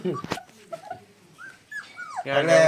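A mother dog near her puppies whimpers in a few thin, rising and falling whines, close and fairly quiet, with a short burst of louder noise at the end.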